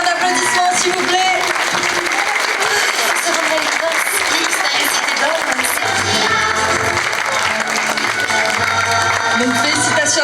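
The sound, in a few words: audience applause at a cosplay contest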